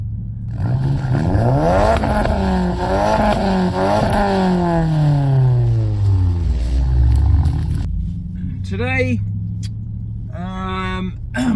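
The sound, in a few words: Audi S5 V8 car engine running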